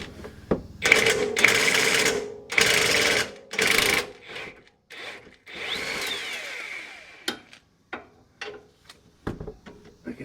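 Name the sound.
hand ratchet with wobble extension removing 13 mm bolts on Mustang exhaust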